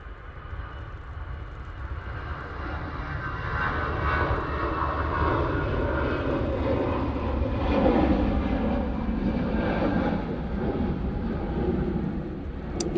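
An EasyJet Airbus A320-200 departs Manchester Airport bound for Faro: a loud, steady jet engine roar that swells slightly midway and holds throughout, with no voices over it.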